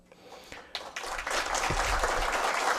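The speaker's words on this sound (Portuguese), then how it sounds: "As palmas são merecidas, realmente." Audience applause at a national state-law advocacy congress evening session, starting sparse with a few claps and swelling into a dense, steady round of clapping from the hall.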